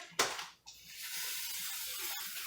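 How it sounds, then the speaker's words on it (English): Cooking spray hissing from an aerosol can onto a baking pan for Boston cream cookie bites, one short sharp burst followed by a longer steady soft spray, close and alone. "First things first is you're going to spray your pan."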